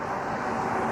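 Airbus A321neo airliner at Toronto Pearson airport, a steady broad jet roar with engine rumble, fairly loud and continuous across the brief moment, with no talk.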